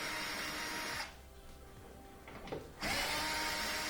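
A power drill pulls 3/4 inch screws from the top panel of a Whirlpool washer that won't drain, with loud close whirring before and after a brief quieter pause.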